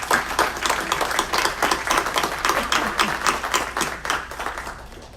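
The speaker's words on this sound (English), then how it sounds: "Let's give her a round of applause." A city council meeting audience gives a round of applause, with a mix of distinct individual claps in a modest room. The clapping is steady and moderately loud, then tapers off toward the end.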